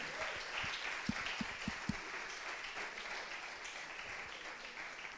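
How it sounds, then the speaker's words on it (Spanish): Church congregation applauding during a sermon, a dense, steady wash of clapping at moderate level with a few sharper hits near the start and no talk over it. "Alguien dele un aplauso al Señor. Vamos, más fuerte"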